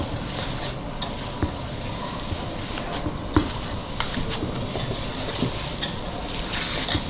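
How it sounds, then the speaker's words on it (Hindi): Boiled potatoes being mashed and mixed into a paratha filling in a bowl: a soft, continuous squelching and scraping texture, close by, punctuated by occasional light taps of the utensil against the vessel, with no voices. "अच्छी तरह इसको मिक्स करके"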